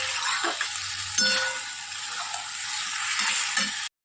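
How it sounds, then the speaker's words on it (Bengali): Curry frying in a pan while being stirred, close sizzling with repeated spoon scrapes and light metallic clinks over about four seconds before cutting off abruptly. "চলো একটু ভালো করে নাড়িয়ে চাড়িয়ে কষাই।"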